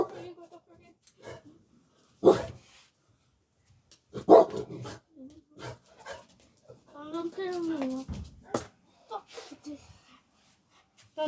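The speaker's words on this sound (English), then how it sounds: "Don't tell me my dog barked because he saw a freaking stranger" A dog barks a few times, sharp close yelps spaced among whimpers, alongside people talking.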